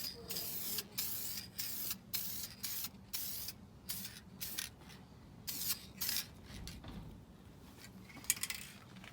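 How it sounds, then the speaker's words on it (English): Clear coat sprays onto a car headlight in repeated short bursts, hissy and close, separated by brief pauses, with a few clicks and handling noises between passes. "Now we're gonna spray some clear."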